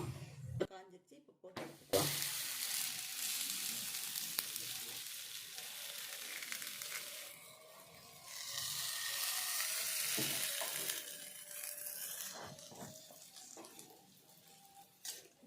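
Ragi adai batter frying on a hot dosa griddle with oil, a steady sizzle that swells and fades with occasional clinks and pan sounds, a voice talking at times.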